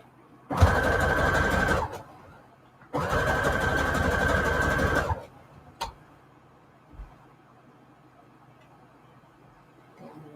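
A sewing machine sews blue lace trim onto scrap fabric in two loud, close bursts of stitching separated by a short pause. A few clicks and light handling noises follow.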